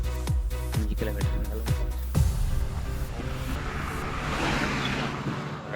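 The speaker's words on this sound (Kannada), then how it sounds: "ಗಾಡಿ ಬರ್ತದೆ" A vehicle approaches on a rural road near Chikmagalur. A few sharp knocks open the clip, then a broad rushing engine and tyre noise builds steadily over the last few seconds as it draws nearer.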